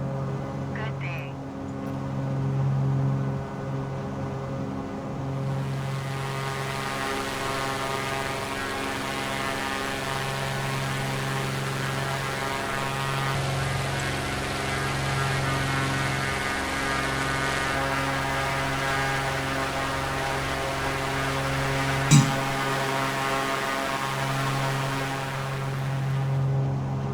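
Steady, loud propeller engine drone fills the cabin of a Beechcraft airplane in flight between Rome and Naples, a continuous layered hum with strong low tones that holds throughout, with a brief click near the end.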